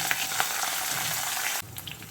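Tempering spices with coarsely crushed garlic and curry leaves fry in hot oil for drumstick leaf dal, a close, continuous sizzle with small pops that drops abruptly quieter near the end.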